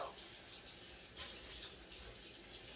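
Steady rush of water pouring from a kitchen tap, running hot, continuous and fairly close, with a faint splash as the flow shifts.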